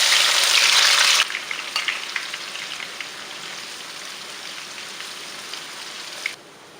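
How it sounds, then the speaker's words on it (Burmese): Shallots fry in hot oil, starting with a loud, dense hiss that settles after a second into a steadier crackling sizzle with scattered pops. The sound is close, and no one speaks. "ကြက်သွန်နီလေးတွေထည့်ချပြီးကြော်ပေးပါမယ်"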